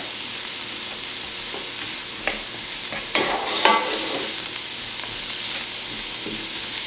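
Sweet or Spanish onions sautéing in a pan for rice with cannellini beans, a constant close sizzle with scraping spoon strokes building in the middle, no talking.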